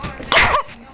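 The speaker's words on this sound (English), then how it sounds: "I'm about to sneeze." One loud, abrupt human sneeze bursts out indoors during a tarot reading, preceded by a short breathy intake and followed by quiet.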